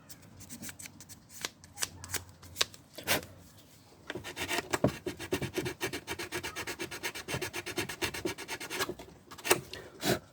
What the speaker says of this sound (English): Just giving it a little sand down.